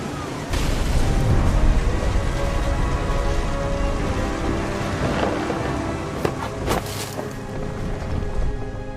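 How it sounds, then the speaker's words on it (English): Heavy rain and deep rumbling thunder in the video game What Remains of Edith Finch, a dense, continuous roar with low booming swells and a few sharper cracks, loud and close throughout. "Thunder sounded much too close and full of angry power"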